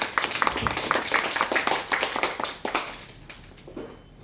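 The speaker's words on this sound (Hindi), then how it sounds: "अपनी लेखा जी के काव्य संग्रहित पुस्तक अमृत कलश का विमोचन होने पर जोरदार तालियों से उनका स्वागत करेंगे" Audience applauding at a poetry book launch, a burst of hand clapping that is fairly faint and thins out toward the end.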